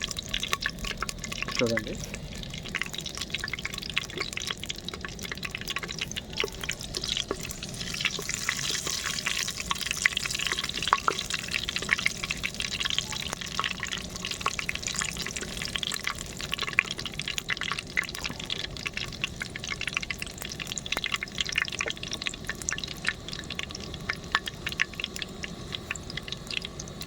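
Whole spices such as cinnamon and star anise fry in hot oil for a prawn biryani, giving a continuous crackling sizzle with scattered pops. A person speaks at times over the frying.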